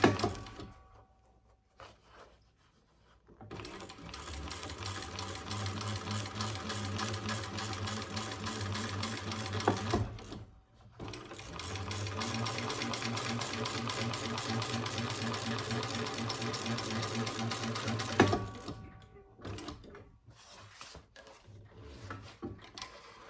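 A sewing machine stitches across the bottom of a bucket bag in two long steady runs separated by a short pause, a close, continuous whirring hum with fine rapid needle ticks, then stops and a few faint handling noises follow.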